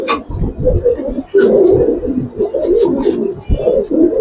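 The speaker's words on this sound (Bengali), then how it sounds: "পুরান জাতের সবুজ গোলা কবুতর মাশাআল্লাহ" Old-breed green Gola pigeons, kept with Giribaz birds, coo loudly and close in repeated throaty rolling phrases that overlap into a near-continuous low warble.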